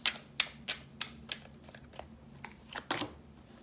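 Tarot cards pulled from a deck, a run of about a dozen crisp close-up card snaps and flicks in a loose rhythm, quiet and with no talk.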